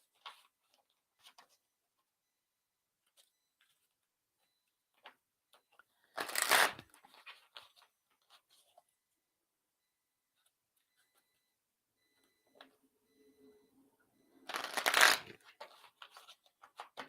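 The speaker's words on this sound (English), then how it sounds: "So we are shuffling." A deck of cards is shuffled during a card reading, two brief loud riffling bursts separated by quiet stretches with small handling ticks.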